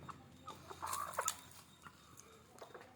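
Country chickens clucking while pecking at bran feed, a few short close clucks in a loose cluster with quieter scattered calls around them.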